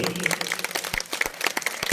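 Applause from an audience at a Hindi poetry recital, a steady wash of hand claps with scattered sharper claps standing out, fairly close and filling the whole moment with no voices over it.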